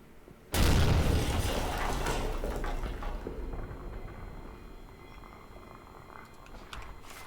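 A frag grenade goes off in the video game Amnesia: The Bunker as one sudden, loud, close boom, followed by a long rumbling, crackling decay that slowly fades over several seconds.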